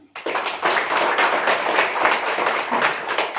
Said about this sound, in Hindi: सब एक बार ताली बजाएंगे